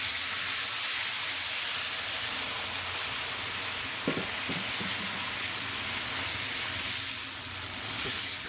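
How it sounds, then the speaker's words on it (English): Tequila lime marinade bubbling around rare steak in a hot pan, a strong, continuous hissing sizzle close up, with a few soft clinks partway through. "So what I'm going to do at this point is add in all of our marinade."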